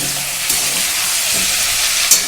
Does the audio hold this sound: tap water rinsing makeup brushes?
no